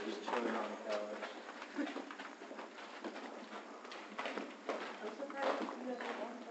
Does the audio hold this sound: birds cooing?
yes